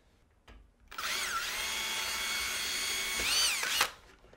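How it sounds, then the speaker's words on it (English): A power drill whines steadily for about three seconds, close and loud, with its pitch shifting as it bores into wood while building a shoe rack, then cuts off. "So when my drill goes in, we've got pinpoint accuracy."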